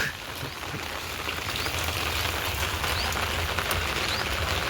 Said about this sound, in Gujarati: જનરલી બધે આવો જ વરસાદ છે